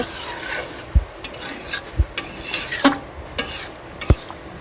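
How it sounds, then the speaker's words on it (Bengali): Fish is stirred with a spatula in a hot pan with onions, giving irregular scraping strokes and sharp taps against the pan over a steady background sizzle, close and fairly loud. "রাত হয়ে গেছে এখানে মাছ রান্না করা হচ্ছে"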